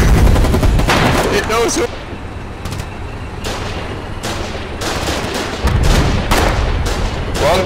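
Machine-gun turret in the video game Foxhole firing heavy automatic bursts, loud and close, in several long volleys separated by short pauses, with a player's voice speaking over the gunfire.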